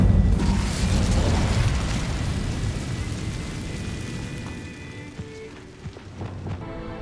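Incendio fire spell cast in the game Hogwarts Legacy, a loud whooshing burst of flame and low boom that fades into a crackling, rain-like hiss with a few soft pops.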